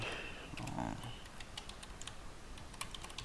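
Computer keys pressed to enter a Control L shortcut at a login screen, a quick run of close, light clicks and taps over low room hiss, ending in a few sharper separate taps.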